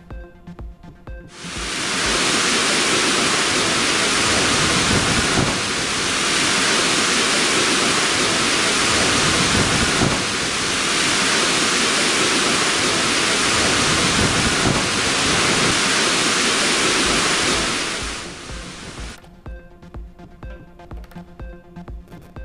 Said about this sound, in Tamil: கொல்லிமலையில் பெய்த மழையால் ஆகாய கங்கை நீர்வீழ்ச்சியில் ஆர்ப்பரித்து கொட்டும் தண்ணீர்